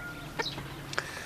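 Chickens give two short clucks about half a second apart, close by and moderately loud over a low, steady background hum, with no talking.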